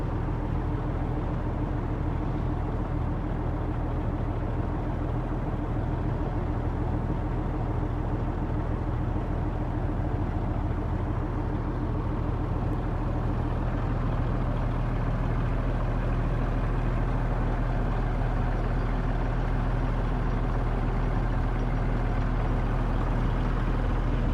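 A car engine idles smoothly and steadily without any revving, a continuous low hum that stays close and even throughout, with no voices.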